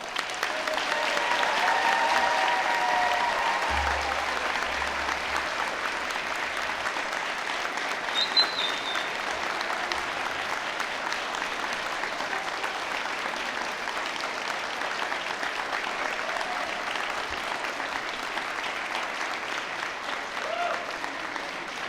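Warm applause from the crowd at a university graduation ceremony for the graduates' parents and friends, loudest at the start and then settling into a long, steady wash of clapping with faint voices mixed in.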